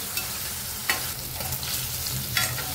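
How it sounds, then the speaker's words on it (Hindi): Paneer cubes fry in a pan on the stove, giving a quiet, steady sizzle with a few soft scraping stirs of a spatula standing out. "थोडंसं लालसर होईपर्यंत पनीर आपण परतून घ्यायचं"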